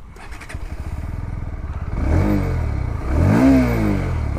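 A 2021 Bajaj Pulsar NS160 motorcycle with a 160cc engine idles close by in a steady, rapid pulse, then is revved twice in loud, rising surges that sink back down.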